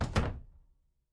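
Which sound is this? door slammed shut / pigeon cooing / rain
door slammed shut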